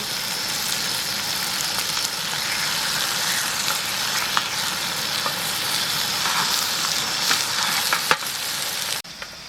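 Food fries in a hot pan with a loud, continuous close sizzle and occasional stirring scrapes, cutting off sharply at the end.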